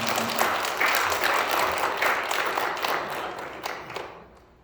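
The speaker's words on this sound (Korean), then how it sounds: "오랜만에 오셔서 박수 드립니다." A Korean church congregation at Sunday worship applauds a member returning after a long absence, a lively round of many hands clapping that swells briefly and then dies away over the final second.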